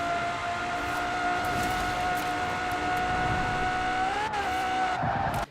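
High-horsepower car in Forza Horizon 4 accelerating hard, its engine a sustained loud whine that holds one pitch, shifts briefly near the end, then cuts off abruptly.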